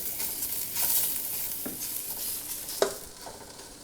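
Minced meat biryani mixture with cumin powder is stirred in a pan, giving a steady soft sizzle broken by a few scraping strokes of the spoon, close and alone with no voices.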